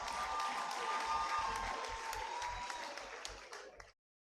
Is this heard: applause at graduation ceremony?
yes